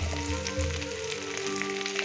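Garlic and green chili fry in hot oil left over from frying fish, with a soft, steady sizzle and a few faint stirring scrapes. The sound is close but quiet, and nobody talks over it.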